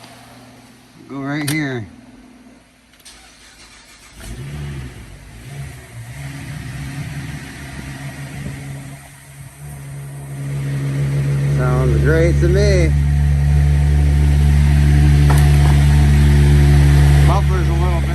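An engine fires up for its first start after an oil cleanout, then settles into a loud, steady idle through a noisy muffler, with people talking over it before and during the run.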